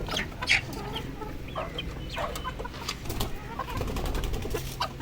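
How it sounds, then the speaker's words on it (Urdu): Free-range desi hens on a poultry farm cluck and chatter continuously, several birds overlapping at close to medium distance over a steady farmyard background. "یہ دیکھیں جی، اور یہ ہماری مرغیاں ہیں."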